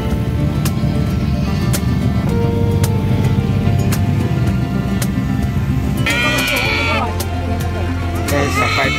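Goats bleat at the San Carlos City livestock market, a couple of wavering calls rising late over a constant rumble of engines and crowd noise, with people talking nearby.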